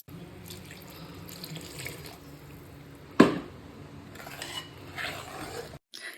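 Water poured into a pot of Kerala-style roasted-coconut chicken curry masala, a steady splashing trickle with faint clinks of a pan, fairly quiet and close, with no talk.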